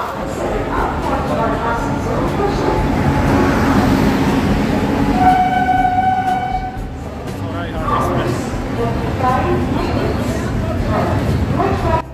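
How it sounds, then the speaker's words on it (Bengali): Howrah–Guwahati Saraighat Express rolling in to a station platform, with a continuous loud rumble of wheels and carriages, a brief tonal horn or whistle partway through, and constant platform crowd chatter. "হাওড়া গুয়াহাটি সরাইঘাট এক্সপ্রেস 2 নম্বর প্ল্যাটফর্মে দিয়েছে, আর আমরা প্ল্যাটফর্মেই আছি। রেডি, ট্রেন এলিয়ে এবারে চাপবো।"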